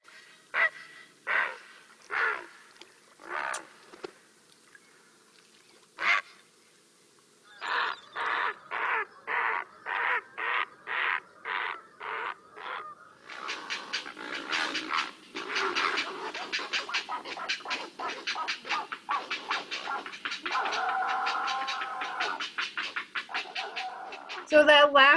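Recorded great blue heron calls played back as a series of harsh squawks and croaks, first spaced single calls, then a rapid regular run, then a dense overlapping stretch of a male and female greeting at the nest.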